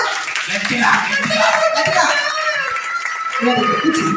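Children clap loudly together, a dense, continuous burst of close applause with crowd noise and voices mixed in throughout.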